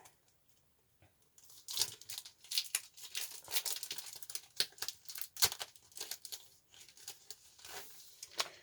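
Small plastic items are unwrapped from their packaging. After a near-silent start comes close, crisp crinkling and tearing of thin plastic in quick, irregular bursts.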